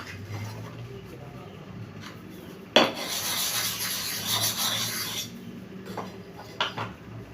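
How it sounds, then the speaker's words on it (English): Clipper blade for a CHAOBA clipper being sharpened on a whetstone, with steady gritty rubbing strokes, a sharp clack near the start and louder scraping passes, close and continuous with no talk. "So let me treat the stone for the second blade."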